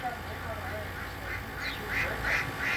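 Ducks quack in a short, faint run of nasal calls that grow a little livelier toward the end, set against steady background noise.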